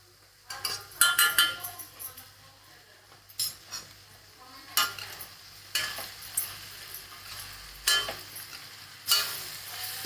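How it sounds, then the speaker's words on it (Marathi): Aloo methi cooking in a pan with a spoonful of ghee, a soft sizzle under repeated scraping and clinking strokes of a spoon against the pan, spaced irregularly and close. "आता शेवटी ना याच्यामध्ये साजूक तूप टाकते 1 चमचा"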